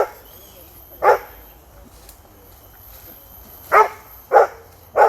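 A Rhodesian Ridgeback named Zuri gives five sharp barks outdoors, one early and four close together near the end, over a quiet background.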